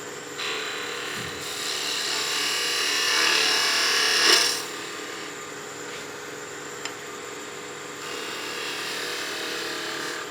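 Skew chisel cutting wood on a spinning lathe, a continuous scraping, hissing cut that swells and peaks sharply before settling into a steadier, quieter rub.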